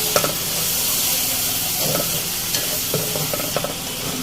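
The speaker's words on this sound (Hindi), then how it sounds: "इस सब मसाले को हमें साथ में अच्छे से भूनना है।" Spice masala with tomato puree fries in a pan for bhindi masala, making a loud continuous sizzle with intermittent spoon scrapes and stirring knocks close up and no talking.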